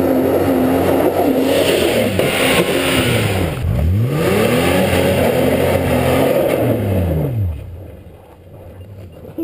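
A car engine revs hard in snow, its pitch climbing and falling in repeated sweeping surges as the wheels spin, loud and close, then fading away near the end.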